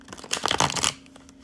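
Tarot cards being shuffled by hand, a brisk papery riffle that swells for about half a second and then fades, close up, with a faint steady hum beneath.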